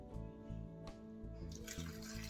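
Fifty millilitres of water poured into a blender for a Korean BBQ short rib (LA galbi) marinade gives a brief splashing gush that starts partway through, over a steady background of music.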